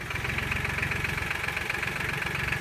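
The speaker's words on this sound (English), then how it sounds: "I'm going to go ahead and start the tractor and back up." A compact tractor engine runs at a steady idle, its low, even knocking rhythm close and loud throughout with a constant mechanical drone and no talk.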